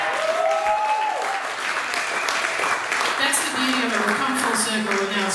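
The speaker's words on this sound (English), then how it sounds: "Give a round of applause" Audience applause at a rock band's induction ceremony, a dense burst of clapping that carries on steadily for several seconds while a voice briefly speaks over it.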